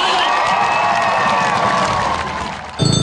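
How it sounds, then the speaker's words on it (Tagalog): A crowd at a political event in a Philippine province cheers and applauds to welcome the President, a dense, loud wash of shouting and clapping that holds steady before ending abruptly. "Sigawan at masigabong palakpakan ang salubong sa Pangulo ng mga kabalin."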